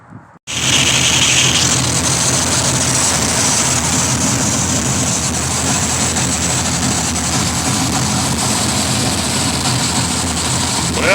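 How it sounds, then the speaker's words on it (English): Engine fitted with a Quadrajet carburetor on an Edelbrock intake catches and settles into a steady, loud, close running roar that holds unbroken for over ten seconds, with a brief cranking start at the very beginning. "but we're still going to fire it up."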